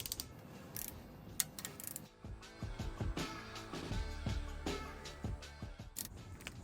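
A ratcheting torque wrench tightens bolts to 10 foot-pounds, giving rapid clicking and creaking mechanical sounds at close range with metallic knocks scattered throughout, fairly quiet overall.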